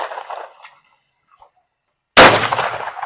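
A shotgun fires one loud, close blast at sporting clays on the White Course at Tenoroc Shooting Range, preceded by a faint voice and brief quiet, then a ringing decay.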